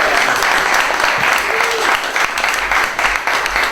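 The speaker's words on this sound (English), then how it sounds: "let's all give her a big round of applause" A magic camp performance audience gives a volunteer a round of applause: loud, continuous clapping that fills the whole span, with a few voices under it.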